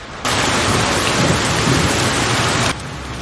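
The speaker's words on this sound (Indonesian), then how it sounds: "dan hujan pun turun dengan sangat derasnya" Heavy rain pours down in a dense, steady roar that starts abruptly and cuts back after a couple of seconds.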